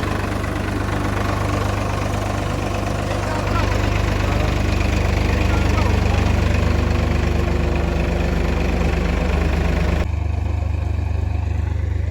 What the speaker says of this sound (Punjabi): 963 ਟਰੈਕਟਰ ਆ